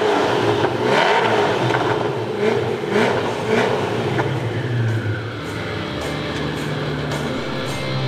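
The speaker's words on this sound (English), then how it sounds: "we were lucky enough to get Mr. Koenigsegg to turn on the Agera RS and give us a few revs" A Koenigsegg Agera RS hypercar starts up and revs, with a few loud surging bursts in the first seconds that settle into a lower, steadier idle rumble, close by and with no talk.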